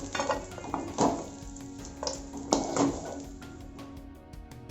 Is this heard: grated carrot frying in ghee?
yes